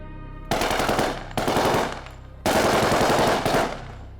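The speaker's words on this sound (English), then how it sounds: "Gunfire erupts." Bursts of automatic machine-gun fire erupt in a police shootout during a prison-escape cash robbery, loud and close, coming in several rapid volleys separated by short pauses.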